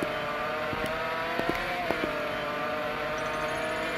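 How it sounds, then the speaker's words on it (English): V12 race car engine in the Roblox game Taxi Boss, a steady sustained engine drone with a shifting tonal whine, loud and continuous throughout with a few brief clicks, no talking. "V12 engine race car."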